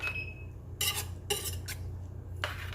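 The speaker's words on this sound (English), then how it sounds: "we're gonna just keep on stirring this so the blood is not gonna just be cooked and flat on one side." Filipino blood stew, dinuguan, is stirred in a pot, a spoon giving several sharp metallic clinks and scrapes against the pot over a low steady background hum.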